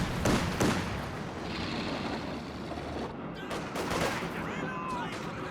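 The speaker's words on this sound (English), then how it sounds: "Going for a lengthways barrage, hoping to get the AT gun as well." A lengthways artillery barrage in a strategy video game pounds a position holding an anti-tank gun and a machine gun. A continuous, loud wash of blasts and gunfire rolls on with a few sharper booms standing out.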